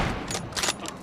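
Sniper gunfire in a shooter video game: a few quick sharp shots crack in succession over a brief noisy stretch, moderately loud with no talking.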